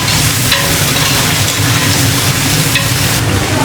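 Chili and ginger fry in hot oil for a chicken and sea snail pot, a loud, dense, steady sizzle with light stirring scrapes and no talking.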